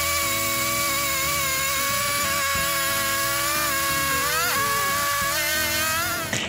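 A chainsaw mill ripping wooden planks, its engine a loud, continuous, close-up whine that holds steady for several seconds before the pitch wavers and shifts near the end.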